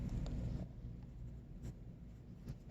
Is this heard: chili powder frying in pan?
no